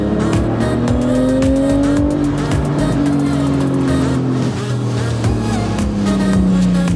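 A car driving on the road, its engine and tyre noise loud and close from inside the cabin, with gear changes shifting the engine pitch up and down throughout.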